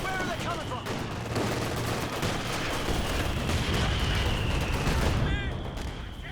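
A mortar half-track barrage pounds a fighting position in a Company of Heroes 2 2v2 match, a steady run of thudding impacts and rattling gunfire beneath continuous commentary.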